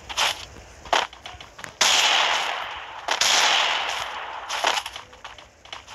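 Desert Eagle pistol fire in a video game: several sharp cracking shots, each followed by a long noisy burst of echo, loud and close, arriving irregularly.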